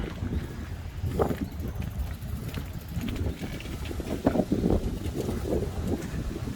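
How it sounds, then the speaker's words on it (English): Steady wind blows and buffets the microphone in a continuous low rumble, with occasional light knocks and rustles mixed in. "It's quite a windy day today."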